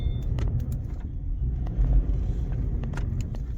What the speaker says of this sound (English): Got a little grinding going on